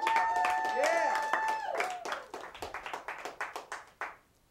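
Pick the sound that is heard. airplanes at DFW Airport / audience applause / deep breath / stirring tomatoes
audience applause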